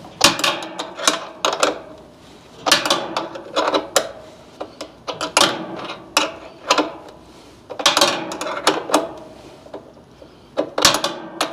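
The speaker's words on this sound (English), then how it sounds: "So these are 13 millimeter, but a half inch wrench will work." A half-inch wrench tightens 13 mm bolts holding down an HVAC outdoor condenser unit, producing repeated sharp ratcheting clicks in uneven bursts, close and fairly loud, with short pauses between strokes.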